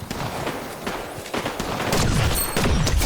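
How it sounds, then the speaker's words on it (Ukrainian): Gunfire in Fortnite, several bursts and scattered shots, some sharp and close and others further off, building toward a dense volley near the end, with no talk. "Там хтось стріляється, значить будуть бігти."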